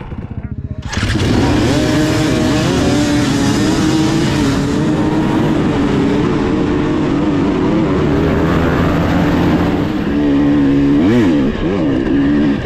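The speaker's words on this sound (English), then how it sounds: "My favorite thing about the two-stroke, especially this new TBI, that grunty power for mountain rides like this." A Husqvarna TX300 TBI two-stroke dirt bike ridden on a mountain hill climb, its engine loud and close throughout with steady revving and a few rising and falling bursts near the end, wind noise and a voice over it.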